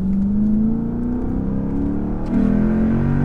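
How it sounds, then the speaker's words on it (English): Lexus IS-F under acceleration: a loud, close engine and exhaust note climbs steadily in pitch, drops briefly at a shift around two seconds in, then pulls upward again, with no talk over it. "Oh god, that exhaust note."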